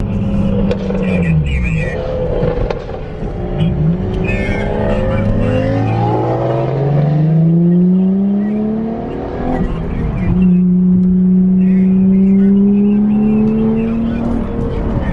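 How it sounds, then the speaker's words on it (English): A turbocharged Ferrari pulls away from a night car meet, its engine revving hard in rising sweeps through the gears, loud and close, then easing off as it moves away. "Ferrari's leaving."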